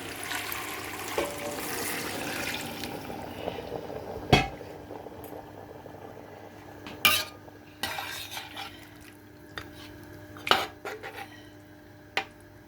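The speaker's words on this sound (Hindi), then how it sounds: "अब इसमें हम डालेंगे यखनी।" Yakhni stock poured into a pot for chicken pulao, then stirred, with a soft watery wash followed by sparse ladle knocks and clanks against the pot, quiet and close, no voices.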